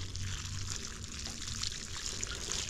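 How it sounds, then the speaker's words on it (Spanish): Water poured over freshly transplanted garden seedlings, a steady close trickle and splash running for the whole stretch with no voices. "Entonces ahorita su respectivo riego."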